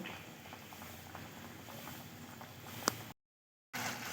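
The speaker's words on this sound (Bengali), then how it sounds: "এবারে ভালো করে ফুটিয়ে নেব।" Onion curry gravy bubbles in a pot with a soft, close simmering patter and a few pops, one sharper blip just before a short dead gap, then the bubbling resumes.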